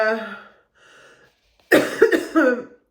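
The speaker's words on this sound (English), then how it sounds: "This is why I've not been on camera, because I'm just constantly coughing." A few soft voiced sounds, then a burst of loud, rough coughs close by, two or three in a row.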